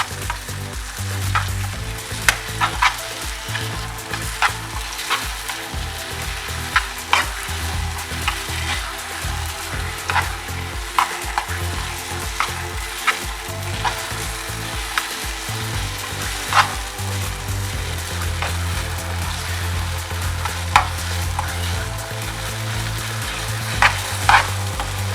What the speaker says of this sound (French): Ensuite on mélange bien.